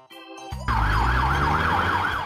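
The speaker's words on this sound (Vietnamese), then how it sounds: "Police riot van." A police riot van siren on a London street, loud and close, wailing up and down in a steady repeating cycle over the rumble of traffic, starting abruptly after a brief quiet moment.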